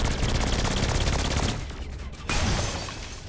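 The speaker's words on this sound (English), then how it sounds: "I think a cop or something is shooting me" Rapid automatic gunfire from a cop in Saints Row 4 rattles in a steady burst, pauses briefly, then resumes, fairly loud with no talking over it.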